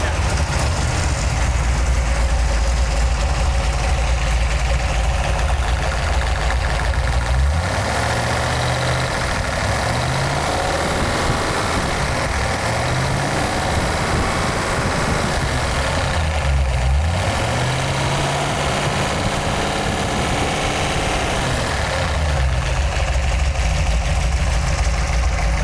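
A 1932 Ford flathead V8 idles with no mufflers, fitted with different headers: a loud, steady, close rumble that swells briefly twice as the throttle is blipped.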